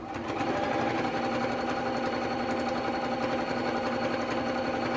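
A sewing machine stitches binding onto a large, heavy quilt, giving a steady close-up motor hum and rapid needle chatter that continues unbroken the whole time.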